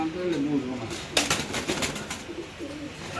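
Caged pigeons at a cage sale coo and rustle restlessly close by, a low murmuring coo running through the clip with a few sharper flurries of movement, and someone talks over the birds.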